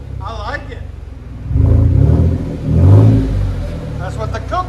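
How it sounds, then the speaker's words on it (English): Chevy Silverado pickup with a 4.3L V6 and Kooks exhaust revving close by: two deep, throaty rising surges of engine rumble at idle, with a person talking briefly before and after the revs. "That's what the KOOKS exhaust sounds like."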